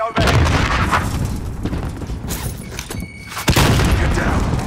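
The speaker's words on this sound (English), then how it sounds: "Grenade out." In Warzone Resurgence, a video game, a heavy booming grenade explosion hits right at the start. Dense gunfire and rumbling blasts follow, and a second sharp burst comes near the end.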